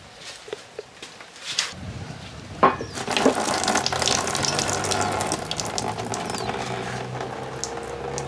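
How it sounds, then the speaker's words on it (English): Coolant drains from a Toyota 1UZ V8 engine during a teardown in a workshop, a steady splashing trickle that starts after a few quiet seconds and runs continuously, with a few clanks near the beginning. "Got to drain the coolant."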